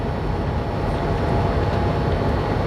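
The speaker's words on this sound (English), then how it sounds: "here comes the grain train" A BNSF freight grain train passing, heard as a loud continuous low rumble and roar of rolling cars that holds steady throughout, with no talk.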